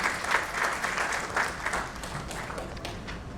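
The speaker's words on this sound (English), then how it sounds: "we need a big round of applause, everybody" An audience at an investment panel discussion gives a round of applause, a soft, diffuse patter of many hands heard at a distance and fairly faint, holding steady throughout.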